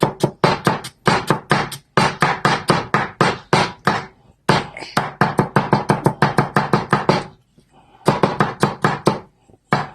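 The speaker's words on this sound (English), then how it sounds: "And see how it is for chopping. Let's try chopping." An Almazan knife chops rapidly on a cutting board, fast bursts of sharp strikes separated by short pauses.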